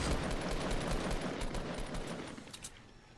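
Rapid gunfire and rocket fire from a Fortnite battle crackle continuously in dense, overlapping bursts, moderately loud and steady before tapering off slightly near the end.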